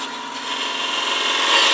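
A wood lathe turns a pillar candlestick while a tool shapes it, giving a steady, bright scraping hiss that builds slightly over a short stretch. It is close and fairly loud, with no voices.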